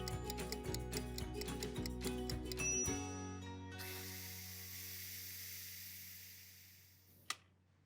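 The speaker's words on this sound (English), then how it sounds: "I'm gonna let this pressure cook for 5 minutes, and then I'll release the steam" A pressure cooker releases its steam in a steady, loud hiss that starts abruptly after earlier ticking and rattling, holds for several seconds, then cuts off sharply with a brief click at the end.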